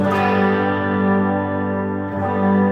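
A sustained instrument tone played through an effects unit with its depth set high, sounding thick, low and bassy, holds steadily with a slight swell and dip, alone without talk.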